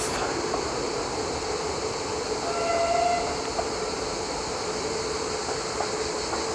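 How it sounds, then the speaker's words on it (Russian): A train rumbles past at a distance by a picnic meadow and campsites in Asha, Greater Sochi, a steady broadband roar with a brief tonal squeal of wheels midway, no voices. "здесь железная дорога и проходит поезд"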